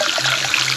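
Spring water running down from a source higher up, a steady close trickling and splashing flow that continues without a break.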